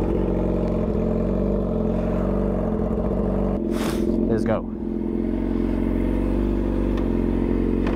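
A Yamaha R6 sport motorcycle engine runs with a steady, even idle drone close by, a brief clattering noise cutting through midway, and a voice speaking briefly over it.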